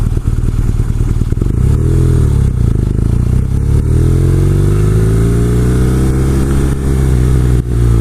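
A BMW R nineT cafe racer's engine runs close and loud, a continuous deep rumble whose pitch swells and dips as it revs, with no talking over it.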